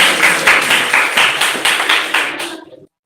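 A single person claps about a dozen times in a steady rhythm, close and fairly loud, ending with a quick flurry of claps before silence.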